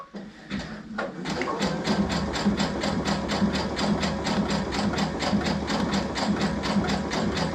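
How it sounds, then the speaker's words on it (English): Sewing machine stitching fabric for a tie pillow, starting up after a brief pause into a fast, even mechanical rattle of rapid needle strokes that runs steadily and close, with no voices. "I'm just trying to kind of keep the fabric in the middle of my presser foot"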